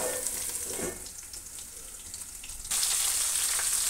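Stuffed snake gourd (chichinda) kalonji, made without garlic or onion, sizzles steadily in a pan over a slow flame. The soft frying hiss rises noticeably louder partway through and carries on with no talking.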